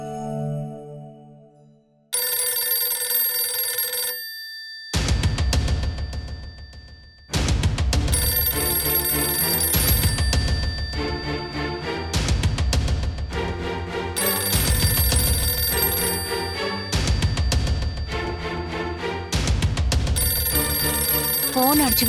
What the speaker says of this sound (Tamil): போன் அடிச்சுக்கிட்டே இருக்கு.